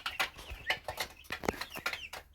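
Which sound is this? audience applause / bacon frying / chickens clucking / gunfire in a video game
chickens clucking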